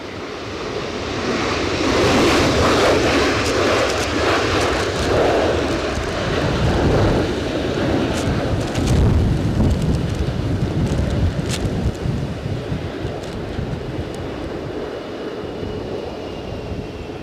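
Strong storm winds at Edinburgh Airport roar steadily in broadband rumble and gusts while an airliner lands, its engines blending into the continuous wind noise, with no talk.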